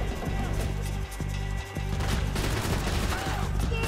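Sustained, dense gunfire from a machine gun in the video game Max Payne 3, a loud continuous rattle of rapid shots running through the whole stretch with only brief dips.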